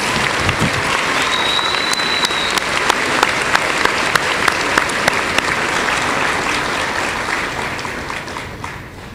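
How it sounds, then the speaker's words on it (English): An audience at a 2014 convocation ceremony applauds for graduating students, with steady, loud, dense clapping that carries on throughout and fades slightly at the end. "Please extend one final round of applause for all of these deserving students."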